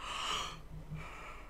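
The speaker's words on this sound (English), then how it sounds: "And here comes some more yawning." A person yawns with a long, breathy, open-mouthed exhale lasting about half a second, close and fairly loud, then trails off into quieter breathing.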